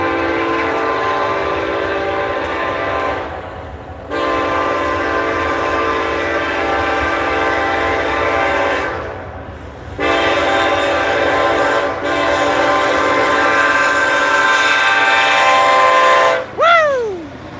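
A Conrail freight train rolls past close by with a long, loud rumble of cars on track and several strong horn blasts, the horn tone bending at the end as the train moves away.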